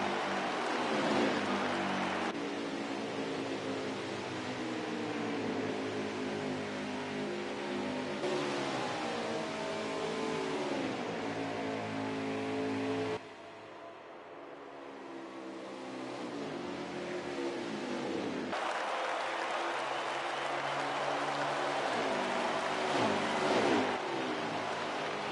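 Race cars on the Homestead track, engines droning and shifting in pitch as they pass and accelerate, with one brief dip where the sound thins before the roar builds back up, heard from a distance.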